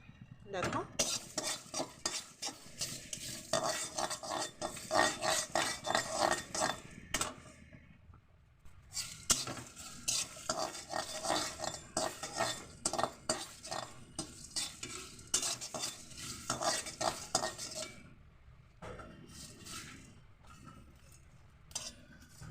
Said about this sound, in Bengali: এবার দিয়ে দিলাম গোটা জিরে